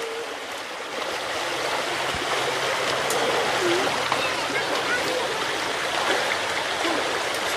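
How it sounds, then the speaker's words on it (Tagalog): A strong river current runs after rain, a broad continuous rushing of water filling the scene at close range with little variation. "Medyo malakas yung agos po mga kabayan kasi syempre umulan."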